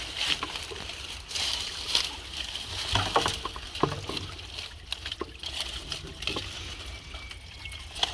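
Spring water pours and splashes steadily at an outdoor source while it is collected into a gallon jug, a continuous close trickle with some sloshing and brief handling bumps.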